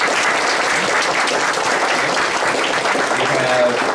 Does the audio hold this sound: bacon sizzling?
no